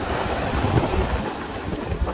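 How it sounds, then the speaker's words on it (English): Heavy wind roars across the microphone on a secluded Florida Gulf Coast beach at Manasota Key, a loud, constant rushing blast blended with rough surf and no voices. "today it is windy. Very rough out there."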